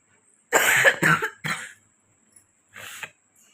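A few harsh coughs from a person with a cold in a quick cluster, then a short pause and one more softer cough, close by with no talking.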